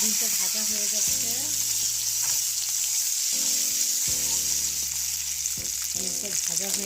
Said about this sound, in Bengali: ডিমটা ভাজা হয়ে গেছে, এখন আমি উঠিয়ে নেব।